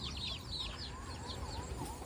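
Desi village chickens cluck and chirp in a steady flurry of short calls, moderately close, with no talk over them, at a goat farm.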